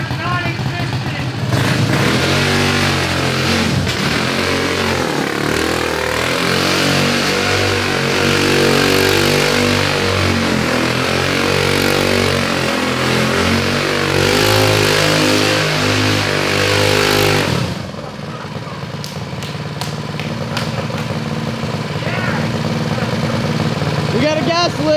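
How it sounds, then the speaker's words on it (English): A Model T go-kart engine revs loudly and continuously, its pitch rising and falling with throttle for about fifteen seconds before cutting back sharply, with people talking over it. "We got the engine cranked up."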